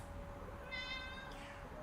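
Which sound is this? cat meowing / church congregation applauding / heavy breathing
cat meowing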